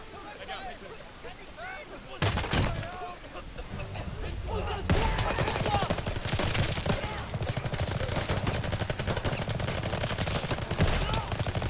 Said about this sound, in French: Ah, un fusil à pompe.